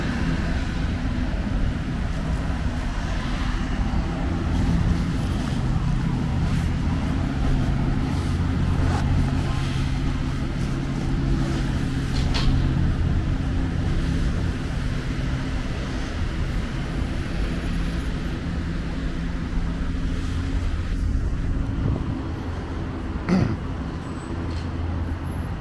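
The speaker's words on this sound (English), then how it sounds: "Street here, Tempelhofer Damm, right now is pretty busy." Steady roadway traffic on Tempelhofer Damm in Berlin, beside the former Tempelhof airport, forms a continuous dense low rumble of passing vehicles at moderate distance, unbroken for the whole stretch with no talk.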